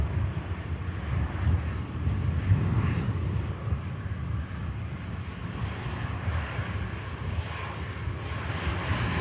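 An airliner landing and taking a rapid exit off the runway at Manchester Airport, a steady distant engine roar with broad rumble that holds fairly constant throughout, no talk over it.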